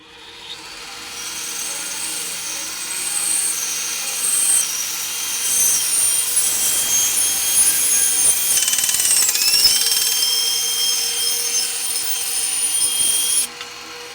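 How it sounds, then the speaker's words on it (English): A bandsaw cuts through a Ducati Monster motorcycle swing arm in a workshop, giving a loud, steady high-pitched metal-cutting whine that rises and holds for over ten seconds before dropping off, with no talking. "now I'm going to put it onto my bandsaw and I'm going to cut it all the way through"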